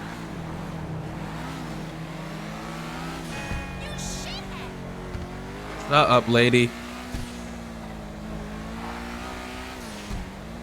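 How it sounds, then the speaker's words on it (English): A video game car engine hums and revs steadily, with a brief burst and whistling release midway; a voice speaks briefly over it. "It has like a turbo sound, like a turbo release sound."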